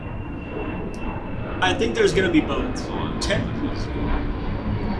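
FedEx cargo planes flying overhead give a steady, low, distant roar that sits under close conversation between people.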